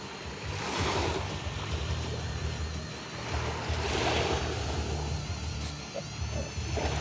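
Small, gentle ripple waves wash against a seashore in a steady, soft hiss of surf that swells and eases twice, with faint wind and no voices.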